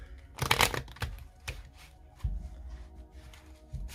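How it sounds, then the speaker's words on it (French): Oracle cards being shuffled by hand, a few quick riffling bursts followed by softer scattered shuffling sounds, close up and fairly quiet with no talking. "ces cartes, je les prends à l'endroit et à l'envers. Donc, je vais essayer de bien les mélanger."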